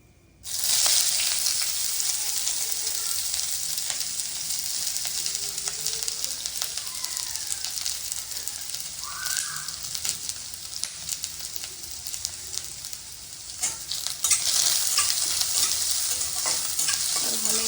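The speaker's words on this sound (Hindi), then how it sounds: "अब मैं इसमें ये प्याज डाल दूंगी" Chopped onion drops into hot oil with a bay leaf in a pan and fries with a steady, loud sizzle, stirred now and then, the hiss swelling again near the end.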